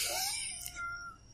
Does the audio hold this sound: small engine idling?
no